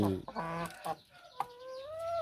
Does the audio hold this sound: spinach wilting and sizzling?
no